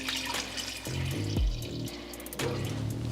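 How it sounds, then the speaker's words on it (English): Water pours from a container into a pot of green beans being cooked Southern style, a steady splashing stream lasting a few seconds with a gurgling dip in the middle. "if I don't have enough left, then I'm gonna go ahead and add some water"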